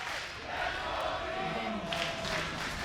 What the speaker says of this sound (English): crowd here in the Berlin studio. Live with the sounds of G2 chants